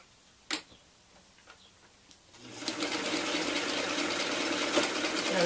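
A sewing machine stitching fabric during a beginner stitching lesson: after a few faint ticks, the motor whirs up and runs steadily and close for the last few seconds.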